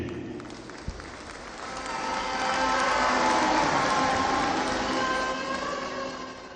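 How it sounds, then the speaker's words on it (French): Sustained applause from a large crowd at a party congress in Bangui, Central African Republic, swelling steadily to a loud, dense roar and holding there without talk. "je voudrais avoir un standing ovation, un applaudissement"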